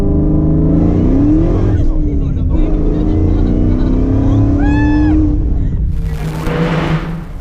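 A 600-horsepower Ford Mustang with traction control switched off revs and accelerates hard, its loud engine note climbing and shifting for several seconds before easing near the end, with people talking over it.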